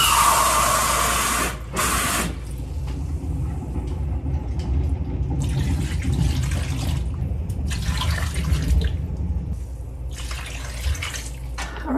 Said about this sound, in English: now I'll be adding 3 cups of water